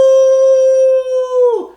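A man imitates a wolf howl, one long sustained tonal cry that holds steady and then breaks off into a rough, breathy fall at the end, loud and close with no other sound.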